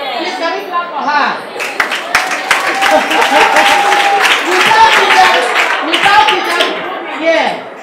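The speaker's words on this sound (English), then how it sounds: "Please, can we clap for her?" Audience clapping in a room for a teacher, a steady, lively patter of many hands mixed with cheering voices and chatter, sustained at a close, fairly loud level throughout.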